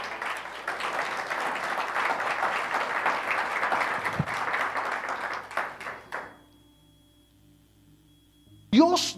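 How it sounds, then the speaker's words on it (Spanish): Congregation applause at a church service, a dense steady wash of many hands clapping for about six seconds, then fading out abruptly to near silence before a voice briefly starts. "Démosle un aplauso al Señor"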